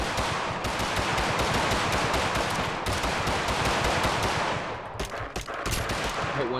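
A SCAR-H rifle in PUBG fires a loud, dense, rapid stream of shots that runs almost without a break, thinning into a few scattered bursts near the end.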